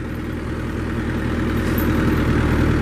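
A forklift engine running steadily as it lifts a short loading ramp, a constant low rumbling drone close by, with no talk.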